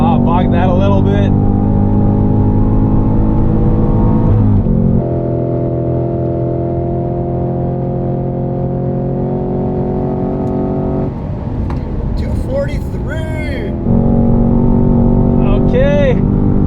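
A 2022 Cadillac CT5-V Blackwing sports sedan with manual transmission roars at full throttle, its steady pitch held for long stretches, broken by quick gear shifts with brief squeals and tire noise between pulls.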